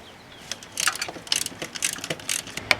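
Ratchet wrench working an 8mm bracket bolt on a Chevy 3.8L engine during intake manifold gasket replacement: a run of quick close clicking strokes in short bursts, fairly faint, with occasional metallic clinks and no talk.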